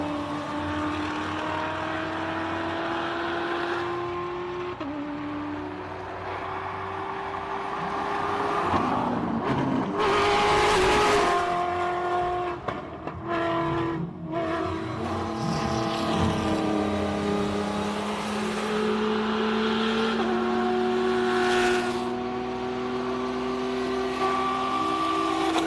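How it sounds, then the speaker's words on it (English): Rally Raid cars race up a hillclimb track, their engines loud and rising and falling as they pass close by, with revving, gear changes and one surge to a roaring peak near the middle. "And here they are on the track, the Rally Raid cars."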